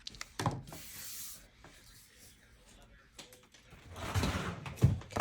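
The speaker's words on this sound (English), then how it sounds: "I am going to go through and cut these corners" Crisp snips and crunches from cutting the corners of paper mini album pages for a vintage Christmas scrapbook, a few sharp bursts spaced apart amid soft rustling of handled paper and quiet talk.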